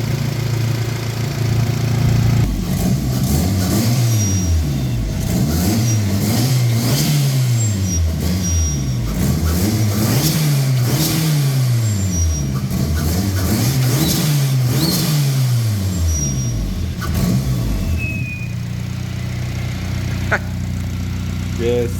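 Turbocharged Honda engine revving loudly and close, several rising and falling rev sweeps in a row before settling to a steadier drone.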